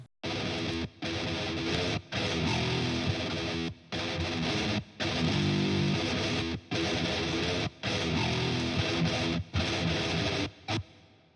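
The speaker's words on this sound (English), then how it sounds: "So the first little bit sounds like this with just the rhythm guitars." Distorted rhythm guitars churn through the E altered scale in 19/16 time, loud and dense, broken by abrupt short stops that give an irregular, stuttering pulse.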